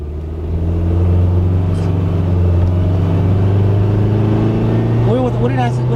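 A car with an RE0F11A transmission, just repaired for a faulty pressure control valve solenoid, drives along with a steady low engine rumble and road noise, rising slightly as it accelerates near the end.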